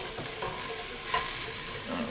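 Onions frying in a pan for homemade chicken noodle soup, a steady close sizzle with a few stirring scrapes and no talking.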